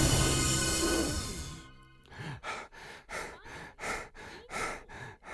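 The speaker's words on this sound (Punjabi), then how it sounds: "ਭੇੜੀਏ ਨੇ ਗੁੱਸੇ ਵਿੱਚ ਆਪਣੇ ਮੂੰਹ ਵਿੱਚੋਂ ਸਾਹ ਛੱਡਿਆ" A cartoon wolf blows out an angry, forceful breath. A long rushing gust opens the clip, then gives way to a steady series of evenly spaced puffing breaths, close and loud with no talking.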